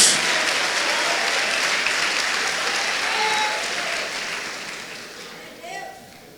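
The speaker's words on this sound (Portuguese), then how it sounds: "pode dar uma salva de palmas" A church congregation breaks into loud, sustained applause that fades over several seconds, with a voice speaking over the clapping toward the end.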